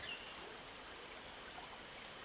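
A waterfall cascade in the game Secret Files 2 gives a faint, steady rushing wash with a thin high tone running over it. It is constant and distant and has no talk.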